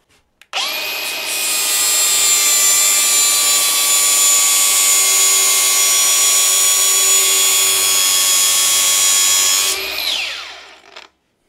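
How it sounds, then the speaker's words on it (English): Flap disc on a power grinder sharpening a steel lawn mower blade, a loud, steady high-pitched grinding whine that runs continuously for about nine seconds before spinning down. "let's flip this blade over and have a go with the flap disc"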